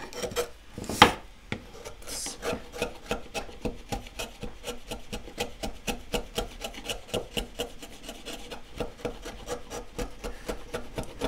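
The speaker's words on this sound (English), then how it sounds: "We can clean it up a bit with our chisel." A chisel pares across a wood surface to flatten it and clear away saw marks, producing close, rhythmic rasping strokes repeated steadily, one after another, with no voices.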